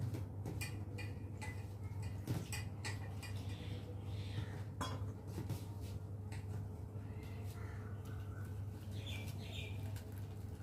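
A knife cuts taro stolons (kochur loti) with light, irregular clicks and taps, close but faint over a steady low background hum, with no talking.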